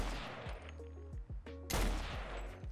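A Lewis gun in the game Fallout 4 fires a rapid burst of heavy, evenly spaced shots, then pauses briefly before a louder crack near the end, close and full.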